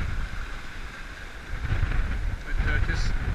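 Wind gusts across a sailboat on the open North Pacific Ocean, a broad rushing noise that swells louder midway, with faint water wash beneath.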